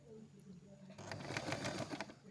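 A sewing machine stitching a flare skirt, starting after a quiet moment with a short, rapid run of needle strokes that is fairly faint and close.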